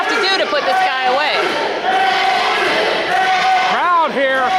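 A wrestling crowd at a Boys and Girls Club independent show, a loud, steady roar of cheering and shouting voices filling the room throughout, with individual yells rising out of the din.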